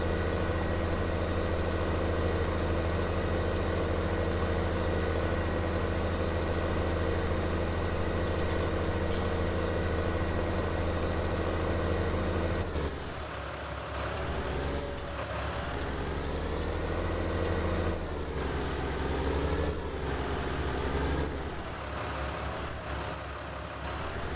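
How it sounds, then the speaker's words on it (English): A heavy tractor engine in a farming video game idles in a steady, loud, continuous drone, then shifts pitch partway through as it revs and labors unevenly. "so they can hear the tractor"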